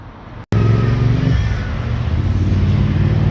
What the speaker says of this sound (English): excuse the traffic noise